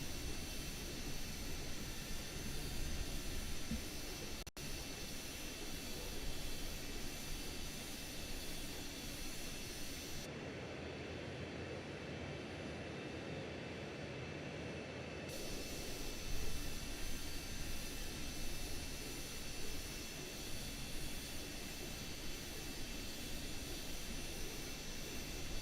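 Dornier Do 31 VTOL plane engines in Microsoft Flight Simulator 2020 give a loud, steady, broadband jet roar that runs unbroken for the whole stretch, with the tone briefly thinning and shifting partway through.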